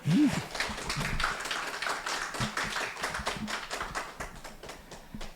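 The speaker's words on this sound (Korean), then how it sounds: "큰 박수 부탁드립니다." Applause from the audience at a Bukchon urban regeneration residents' council founding general meeting, a steady roomful of clapping hands that holds for several seconds with no talk over it.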